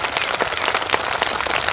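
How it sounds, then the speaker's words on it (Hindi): An audience at a Veer Bal Diwas poetry recital breaks into loud, dense, continuous clapping, close and filling the whole brief moment. "ये तालियां मंद नहीं होनी चाहिए, ये तालियां कम नहीं होनी चाहिए।"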